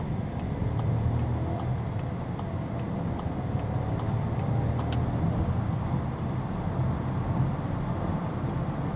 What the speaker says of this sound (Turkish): şu an alıyorum ve gaza basıyorum. Sonuna kadar bastım arkadaşlar.